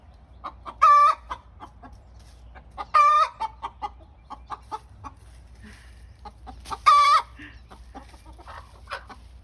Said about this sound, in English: So that's the chicken's egg laying song.